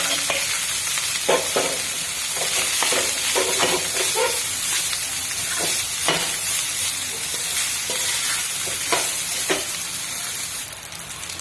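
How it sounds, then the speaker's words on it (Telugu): Leftover cooked rice is stirred with oil in a pan, a steady soft sizzle broken by repeated scraping and spoon strokes at an uneven rhythm, close and fairly loud, with no talking. "ఈ విధంగా అన్నంకి ఆయిల్ అంతా అప్లై అయ్యేటట్టు కలుపుకున్న తర్వాత"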